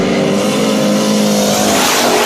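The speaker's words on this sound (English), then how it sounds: "Heaton and Bryant coming off of 2. Side by side, Bryant inching ahead going into 3." Race cars roar around an oval track at the Gator National, a loud, sustained engine howl with rising and falling pitch as the cars speed past together.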